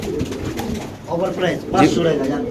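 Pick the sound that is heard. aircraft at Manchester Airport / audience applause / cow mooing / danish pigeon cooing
danish pigeon cooing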